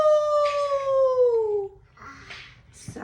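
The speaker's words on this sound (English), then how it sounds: "A coyote howled in the distance." A coyote howl: one long, clear, falling wail that fades after about a second and a half, followed by a few quieter, rougher yips and noises.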